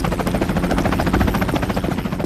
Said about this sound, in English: what the fuck is that helicopter?